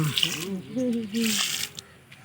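Water is poured generously onto garden plants in bursts that splash and rush. A person talks over the sound throughout.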